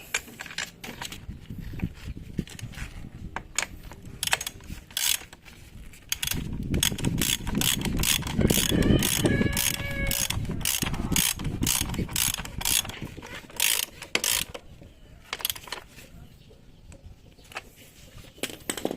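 A ratchet wrench tightens a muffler nut during a motorcycle dual-shock conversion kit install. Rapid runs of close, crisp ratchet clicks come in bursts, then a stretch of heavier turning, then more clicking.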